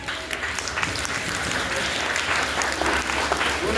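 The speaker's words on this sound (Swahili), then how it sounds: "Hebu wapigie makofi" Audience at a school gathering applauding students, a short burst of steady, close crowd clapping with a voice faintly audible beneath it.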